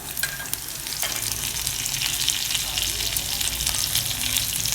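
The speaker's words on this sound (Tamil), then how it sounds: "கருவேப்பிலை கழுவி வச்சுருக்கேன், அதையும் போட்டுக்கலாம்" Asafoetida and washed curry leaves crackling in hot oil for banana flower sambar, a dense, loud, continuous sizzle with a few sharp pops at the start and a brief spoon clink.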